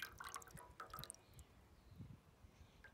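Soaked printer paper is lifted out of water, and faint drips patter quietly back into it in an artist's studio.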